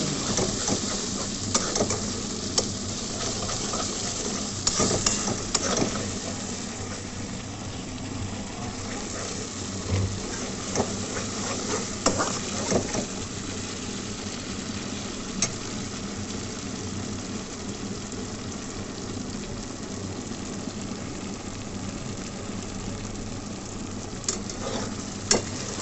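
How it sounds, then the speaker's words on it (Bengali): Potatoes sautéing for alu dum in a pan, a continuous close sizzle with scattered crackles and occasional scraping stirs, steady throughout with no voices. "ভালো করে কষে নিতে হবে।"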